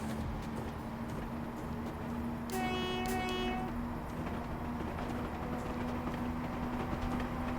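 A train departs with a steady low engine drone and rolling clatter throughout, and a horn sounds briefly partway through.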